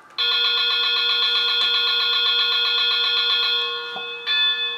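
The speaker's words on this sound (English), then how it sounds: "Now when I turn on the bell, this is what it's going to sound like." Model locomotive bell from a Tsunami steam sound decoder set to bell rate 0, a loud, very rapid metallic ringing that buzzes almost continuously for about four seconds, then fades and briefly swells again.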